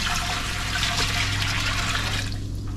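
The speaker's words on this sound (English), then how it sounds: "So now you're adding another liter of water." Water pours steadily and loudly into a canning steamer, a continuous splashing rush with a low hum underneath, easing slightly at the end.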